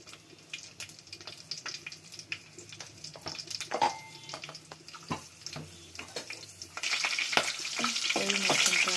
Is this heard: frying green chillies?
yes